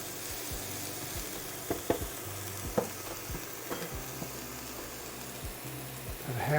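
Spinach sizzles in a pan with garlic and eggs, a steady close frying hiss with occasional soft taps and stirring scrapes against the pan.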